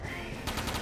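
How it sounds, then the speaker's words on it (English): Rapid machine gun fire from a mech in the video game Front Mission 4 erupts as a short, loud burst of fast shots after a brief lead-in of game noise. "Rapid fire."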